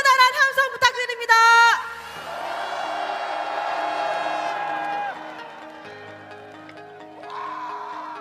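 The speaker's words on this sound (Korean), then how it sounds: "여러분 커다란 함성 부탁드립니다" Large crowd at a Korean opposition-party political rally roaring, cheering and shouting together, loud and sustained, with a brief announcer's voice at the start and background music underneath.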